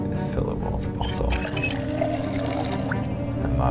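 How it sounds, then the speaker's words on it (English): Water running and pouring as a bottle is filled in a zombie survival video game, a steady liquid wash with a low hum, under a voice talking throughout. "Just fill the water bottle."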